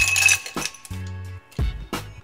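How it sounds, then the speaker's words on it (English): Ice cubes clink and clatter into a glass already holding cherries and juice, several sharp close knocks in quick bursts with short pauses between, loud and clear with no talking. "you're going to add in your ice."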